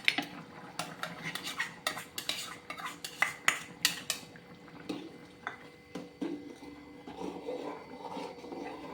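Cashew-coconut paste is poured and stirred into a pan for a curry: repeated metallic clinks and scrapes of a spoon against the pan come in uneven bursts, followed by a softer bubbling churn.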